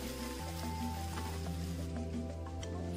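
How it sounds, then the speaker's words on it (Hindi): Onions and potatoes frying in oil over a medium-high flame, a steady close sizzle running the whole time with a low hum underneath and no talk. "अब हम प्याज को आलू के साथ गोल्डन ब्राउन होने तक फ्राई कर लेंगे।"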